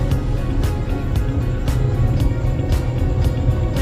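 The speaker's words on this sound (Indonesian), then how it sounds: "Terdengar suara kendaraan sedikit lebih berat." A car's engine labours hard, a loud close steady rumble with rattling bumps, as the vehicle climbs a steep mountain road near Pantan Terong, Takengon.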